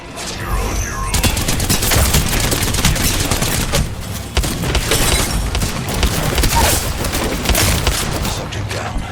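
Rapid bursts of enemy gunfire in a shooter video game, with booms and machine-gun rattle running loud and continuous for several seconds.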